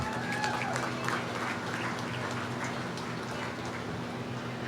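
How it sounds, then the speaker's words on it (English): Crowd applause at a youth livestock show, honoring dairy steer exhibitors, steady and moderately distant with a constant low hum underneath and no speech. "Let's give all these exhibitors a big round of applause."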